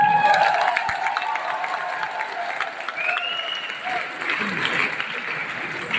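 A big crowd at a celebration event applauds in sustained, loud clapping with some cheering mixed in, while a voice carries faintly over it.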